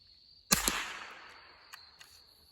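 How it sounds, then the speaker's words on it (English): A single subsonic .22 LR round fired from an old unsuppressed .22 rifle, one sharp close crack with a short decaying ring, followed by two faint mechanical clicks from the action. "I figured I would shoot it out of a regular 22 here"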